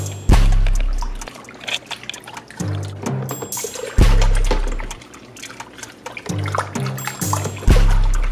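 Liquid wig dye being stirred in a container, sloshing and splashing in repeated swirling strokes about every second or two, close and fairly loud with no voices.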